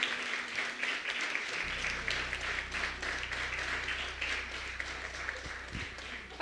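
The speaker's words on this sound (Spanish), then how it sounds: "Y un aplauso, ¿cierto?" A church congregation at a Sunday service claps steadily, a sustained round of moderately loud applause from many people, with a low hum entering partway through.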